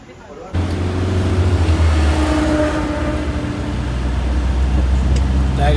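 A car pulls away during a city tour in Phuket, its engine rumbling up loud and close from a sudden start and holding a steady drone throughout.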